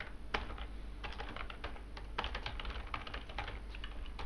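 Quiet, quick typing on a computer keyboard, with irregular bursts of close keystroke clicks and brief pauses between runs, and no talking.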